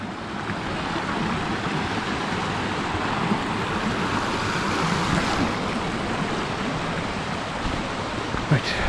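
Wading across a river stream in the Brecon Beacons, with a steady broadband rush of flowing water that stays loud and even throughout, plus faint sloshing and splashing near the end.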